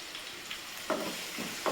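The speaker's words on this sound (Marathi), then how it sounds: "लसण आणि अद्रक टाकून त्या लसणाला आणि अद्रकाला" Garlic and ginger frying in oil in a pan, a steady close sizzle with a few brief louder crackles and stirring touches, no talking.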